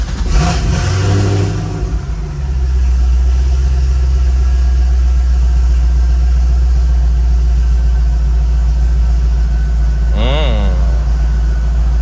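A 2008 Corvette engine after an intake re-seal and tune fires up with a loud revving burst, then settles into a steady, deep, close idle that holds for about ten seconds, with a short rev flare near the end.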